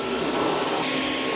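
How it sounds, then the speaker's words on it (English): Household vacuum cleaner running steadily during a weekend home cleaning session, a continuous close broadband whir with a faint tonal hum and no pauses or talk. "Let's give it a vacuum."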